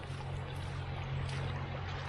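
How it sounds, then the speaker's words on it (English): Water gushes steadily from a culvert outlet into a woodland stream, a continuous close rushing wash with a low rumbling undertone and no gaps. "The culvert is taking as much water as it can and spitting it out on the other side"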